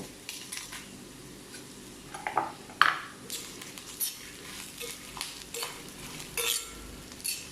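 Pieces of breadfruit fry in a pan for a Tulu-style curry, with a low steady sizzle under occasional clinks and scrapes of a spoon stirring, fairly quiet throughout.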